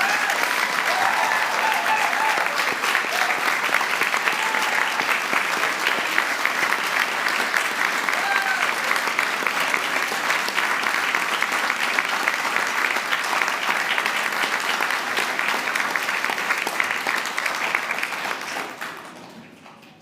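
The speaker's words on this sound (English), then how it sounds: "So could I ask all of our graduates to give your family, your friends, and your supporters a huge round of applause." Sustained, dense applause from graduates at a Dublin degree ceremony, filling a large hall steadily for about eighteen seconds before tapering off at the end.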